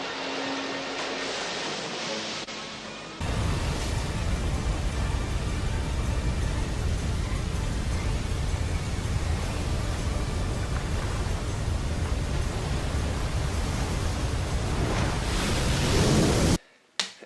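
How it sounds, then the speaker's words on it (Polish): A tsunami wave crashes in an animated show, starting with a sudden loud surge of roaring water that stays dense and continuous for over ten seconds, then cuts off abruptly. "Czy to tsunami?"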